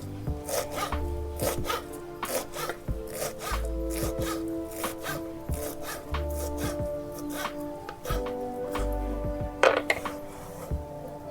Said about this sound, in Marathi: आता ही भाजी नाही का मस्त अशी बारीक बारीक कापून घ्यायची